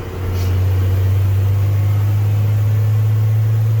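A Unimog U500 expedition truck's engine drones steadily and loudly while driving, a strong low hum that swells up in the first half second and then holds constant with no talk.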